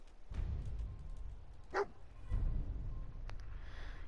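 Dogmeat the dog in the video game Fallout 4 gives a few short, faint barks and whimpers, with quiet gaps and low background noise between them.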